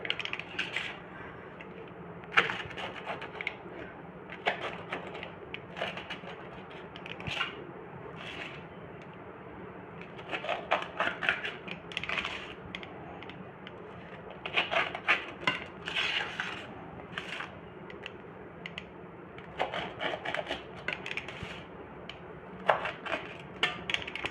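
A crunchy pan-cooked pizza, made without an oven, is cut into pieces and served, with a steady run of light metallic clicks, taps and scrapes of utensils against a pan continuing throughout.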